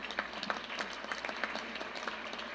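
Applause from a large conference audience of retired teachers, around three hundred people gathered for a luncheon address, with steady crowd clapping that holds fairly even and moderately loud across the short stretch.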